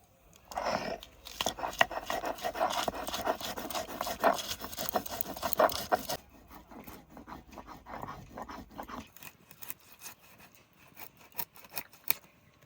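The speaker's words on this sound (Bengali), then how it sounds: "চারটে লঙ্কা আর একটু লবণ দিয়ে দেবো দিয়ে ভালো করে বেটে নেব" Mustard seeds ground with green chillies and salt, rough rhythmic scraping and rubbing strokes that run steadily for about six seconds, then turn sparser and fainter with scattered taps.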